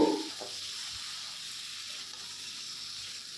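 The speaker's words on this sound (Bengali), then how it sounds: "ঢেলে দিয়ে ভালো করে আবার কষিয়ে নেব খুন্তি দিয়ে" Bogo fish sizzling in masala in a pan, stirred with a spatula: a steady bright hiss of frying with a brief scrape of stirring at the start, close and continuous.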